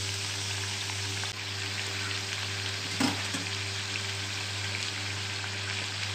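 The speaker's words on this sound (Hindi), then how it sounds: "इस प्रकार पलटा कर ब्राउन होते तक सेक लेना" Whole-wheat masala papdi dough roasting in a pan over a very low flame, a soft steady sizzle with a faint crackle and one brief sharp knock partway through.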